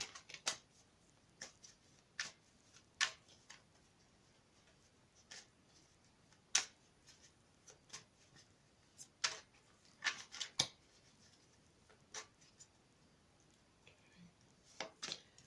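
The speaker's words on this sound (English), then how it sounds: "I'll shuffle them again for you on camera" Tarot cards shuffled by hand: soft, quiet, irregular clicks and flicks of cards, spaced apart with brief pauses, close and faint with no talking.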